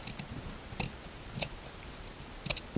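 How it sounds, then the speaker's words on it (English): Scissors snip through upholstery fabric while cutting around the rail on the inside back of a chair, giving four or five short, crisp clicks spaced irregularly, close and fairly quiet. "So what I do is I cut straight into the middle,"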